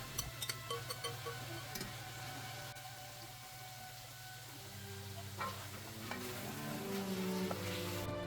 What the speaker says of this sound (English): And then adding the vegetables and frying them off.